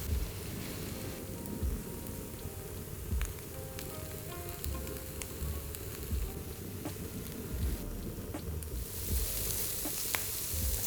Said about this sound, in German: 1 Esslöffel Öl in die Pfanne und bei mittlerer Hitze die Medaillons goldenbraun auf beiden Seiten anbraten.